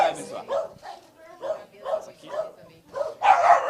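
A small dog, the committee mascot, barks and yips repeatedly in short bursts, close by, with people talking around it.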